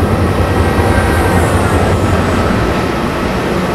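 A train passes in the snowy Train Simulator 2014 game, a steady loud rumble with low rolling rail noise throughout and no voices.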